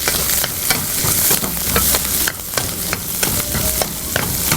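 Chopped onions frying for a sandwich dosa filling, a loud close sizzle broken by repeated spatula scrapes and stirring knocks against the pan, with no voices.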